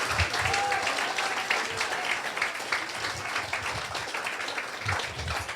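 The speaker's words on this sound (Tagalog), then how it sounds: "clap your hands to the Lord" A church congregation claps their hands in worship, a dense, steady clatter of many hands filling the room from start to finish.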